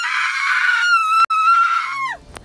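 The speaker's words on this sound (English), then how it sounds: "I'm about to scream too." A person lets out a loud, sustained scream of terror that runs for about two seconds, with a brief break in the middle, and ends in a falling pitch.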